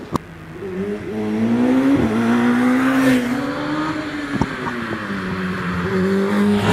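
A race car climbs the Doune hillclimb course in the British Championship, its engine note rising and falling through gear changes at mid distance, with tire noise and a few sharp clicks and pops.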